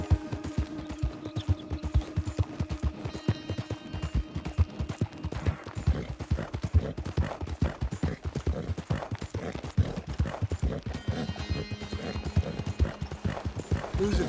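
A horse's hooves clip-clop at a steady walking rhythm in the Western game Red Dead Redemption 2, close and continuous throughout, with faint background ambience.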